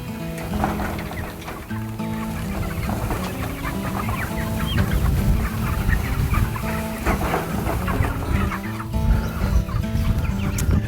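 Many chickens cluck and murmur together on a pasture farm among thousands of birds, a close, continuous flock chatter with rustling, no voices heard.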